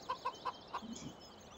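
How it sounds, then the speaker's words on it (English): Wild chickens in Farming Simulator 17 cluck in a quick run of four short, sharp notes, fairly close, followed by a softer trailing murmur and quiet background. "Some wild chickens running around."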